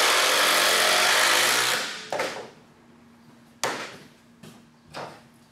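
Makita XDT15 and DeWalt DCD809 compact impact drivers running under test: a loud, continuous mechanical whir for about two seconds, then several short, sharp bursts that die away quickly, with no talk.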